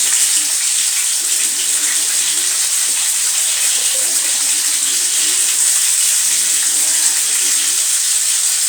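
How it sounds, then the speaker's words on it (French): Fresh water pouring in a loud, continuous hissing gush like a running tap, steady and close throughout with no talking. "Je mets l'eau fraîche."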